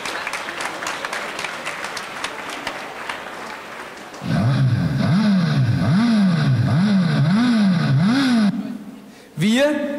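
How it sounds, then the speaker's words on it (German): Audience applause at a school presentation event, scattered clapping under a voice at first, then covered by a loud revving engine with a wavering, repeating pitch swing. "Applaus jetzt bitte"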